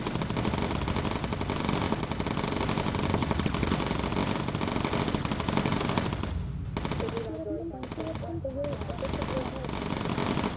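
Bomber Crew video game turret machine guns on a bomber rattle in long, loud continuous bursts over engine drone, with brief pauses near the end and a few faint voices.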